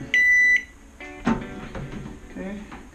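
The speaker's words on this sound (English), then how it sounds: "Okay, got a little beep." A Sharp Carousel microwave oven gives one clear, steady electronic beep lasting about half a second near the start, followed by quieter kitchen handling noises and soft clatter.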